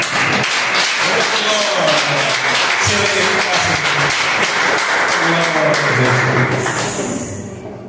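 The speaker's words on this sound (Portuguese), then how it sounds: "Aplauda o Senhor Jesus." A congregation at a Friday church service claps loudly and continuously in praise, dense hand claps blended with voices and loud background music, fading slightly at the very end.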